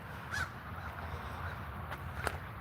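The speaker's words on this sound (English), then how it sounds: "There's a crow up there." A crow caws a couple of times from up in bare autumn trees during a walk in Berrien Springs, Michigan, the calls faint and distant over steady outdoor background noise.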